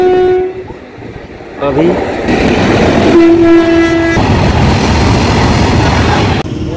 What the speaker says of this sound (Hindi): तो ट्रेन चल चुकी है यहाँ से